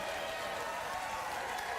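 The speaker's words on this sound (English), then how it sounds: "Let your applause die away quite naturally" Studio audience applause on a late-night talk show, a dense, steady wash of clapping that holds at an even level for the brief stretch without any audible fade.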